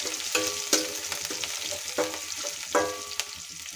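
Vegetables for traditional bhogi bhaji fry in oil with a continuous close sizzle, punctuated by several sharp clinks and scrapes of a spoon stirring against the pan.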